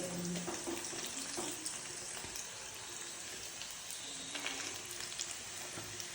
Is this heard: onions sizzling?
yes